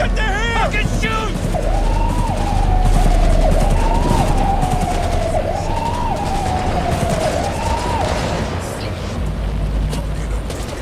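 Gunfire in the video game Cyberpunk 2077: loud rapid bursts and shots mixed with a wailing siren and a chaotic street rumble, while voices shout over the noise.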